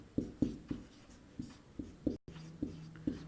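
A teacher writes on a board, chalk tapping and scratching in short, close strokes spaced under a second apart, with a brief dropout partway.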